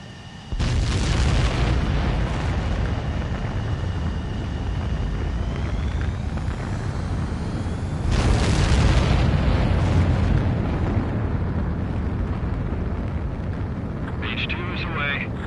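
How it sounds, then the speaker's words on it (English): A fighter jet launches for takeoff in Ace Combat 7, with a loud sustained engine roar that surges stronger partway through and stays dense and close, while radio voices talk over it. "H2, begin takeoff sequence."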